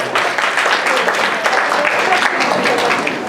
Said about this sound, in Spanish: Un aplauso a este grupo, muchas gracias.